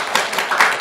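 A group in a team workshop gives itself a round of applause: a short, uneven patter of nearby hand claps with a few sharper individual claps standing out.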